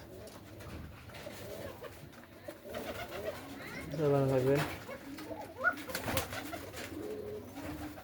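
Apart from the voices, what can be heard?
pigeons cooing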